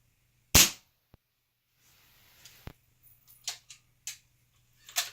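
A Weihrauch HW97KT air rifle fires a single sharp, loud crack that cuts off quickly, followed by quieter scattered clicks and taps in an otherwise silent setting.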